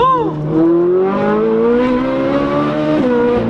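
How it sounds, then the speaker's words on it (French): A Ferrari 458 Italia fitted with a full tube exhaust revs hard to heat its tyres, the engine note climbing and holding a loud, steady, raspy howl up close for a few seconds, with a brief dip near the end. "J'ai juste voulu chauffer les pneus les amis"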